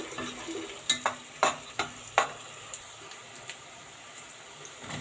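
Rice frying in ghee and oil being stirred with a spoon for Egyptian rice, a soft continuous sizzle punctuated by several distinct scraping taps that fade toward the end.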